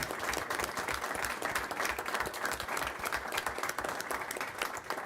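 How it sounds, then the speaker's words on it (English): A round of applause in a Senate committee room for a senator's last bill, steady moderate clapping from a small group heard at a slight distance, with a few voices faintly underneath. "well, you deserve a round of applause"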